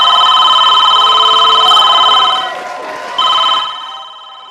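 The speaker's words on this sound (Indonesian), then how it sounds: "Telepon udah bunyi aja." A telephone rings loudly in repeated electronic trills, with a short pause before the ringing resumes and then fades.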